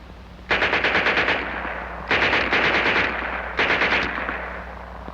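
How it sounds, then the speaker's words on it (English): A German Schmeisser submachine gun from World War II fires three loud, close bursts of rapid automatic shots, each burst about a second long, separated by short pauses with ringing decay. "And here's their Schmeiser."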